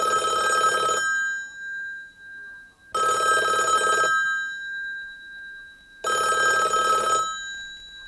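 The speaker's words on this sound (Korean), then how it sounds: "총독부 아카지 경무국장님, 이 만주 봉천까지 전화를 다 주시고 영광입니다." A telephone bell rings in three long bursts about two seconds apart, loud and close, used as a sound effect in a Korean radio drama, with quiet pauses between rings and no talking.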